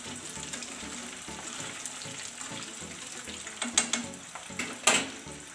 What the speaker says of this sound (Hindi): इनको फ्राई करके हम बाकी आलू भी इसी तरह फ्राई कर लेते हैं